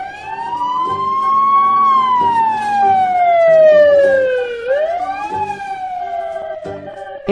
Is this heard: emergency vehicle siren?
yes